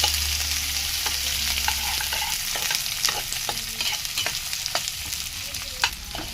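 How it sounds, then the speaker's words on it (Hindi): Onions frying and being stirred in a pan for noodles, a steady close sizzle with repeated scraping stirs throughout and no talking. "अब हम लोग डालेंगे प्याज। अब थोड़ी सी हिलाएंगे।"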